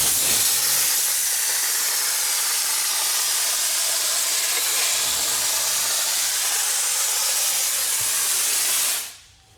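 Dry ice blaster jetting a steady, loud, close hiss across the plastic trim of a Porsche 997.2 GT3 RS, running continuously for several seconds before cutting off abruptly.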